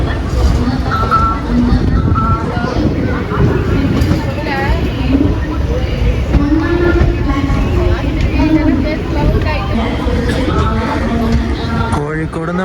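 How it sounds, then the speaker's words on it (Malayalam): Chennai Egmore Express pulling into Kozhikode railway station, a steady rumble of the train under constant babble of voices on the platform and in the coach, with people talking throughout. "അങ്ങനെ 10:52 ആയപ്പോൾ കോഴിക്കോട് റെയിൽവേ സ്റ്റേഷനിലേക്ക് നമ്മളിങ്ങനെ കയറിക്കൊണ്ടിരിക്കുകയാണ്."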